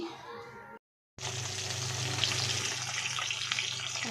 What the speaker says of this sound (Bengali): মাছ ভাজা বসিয়ে দিয়েছি দেখতেই পাচ্ছ